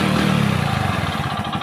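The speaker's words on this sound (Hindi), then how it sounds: "पिस्टन से एक टन टन टन टन खटखट का जो साउंड आ रहा है" Hero Splendor motorcycle engine running close up with worn piston rings, a loud mechanical clatter with a rapid rhythmic knock through the short burst.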